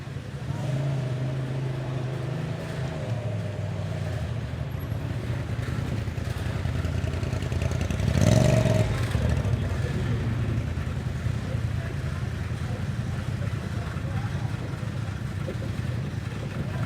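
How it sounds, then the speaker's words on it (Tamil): Quad bikes and dune buggies drive over sand dunes, their engines a steady, distant hum that swells briefly as one passes nearer midway before settling back into the background drone. "இதெல்லாம் பகில போயிட்டு வராங்க பாருங்க."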